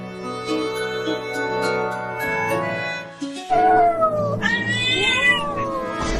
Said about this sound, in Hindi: अरे चिंटू, ये बिल्ली इतना बोल क्यों रही है,